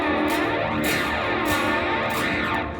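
Several guitar strings strummed together as one chord, each slightly detuned by a few cents, producing a dense, sustained wash with audible beating and a sour, warbling shimmer that rises and falls across the notes.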